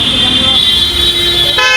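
A bus pulls up at a roadside stop with a sharp horn toot near the end, over a steady engine rumble and traffic noise; a voice talks over it.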